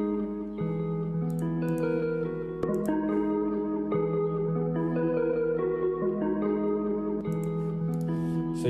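FL Studio beat pattern of chords alone, a sustained, softly textured keyboard progression that shifts every second or so, steady level, with occasional bright clicks on top and no voices.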